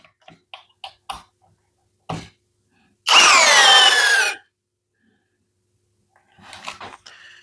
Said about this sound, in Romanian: n-au putut să bage șurubul până în capăt